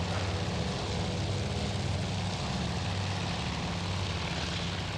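Propeller torpedo bombers flying in the Battle of Midway in Task Force Admiral, a steady, loud, continuous drone of piston aircraft engines with a low throbbing hum and no breaks.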